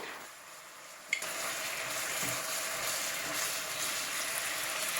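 Marinated teriyaki chicken thighs fry in oil in a pan over medium heat, a steady close sizzle that jumps louder after a brief clink at the start and then keeps crackling evenly.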